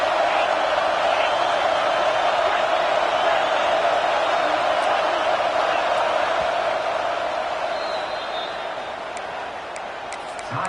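A stadium crowd roars steadily behind the defense on third down at a football game, a loud, continuous wash of cheering and noise that eases slightly toward the end.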